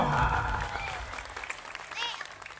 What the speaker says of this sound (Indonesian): tepuk tangan untuk Mang Ohang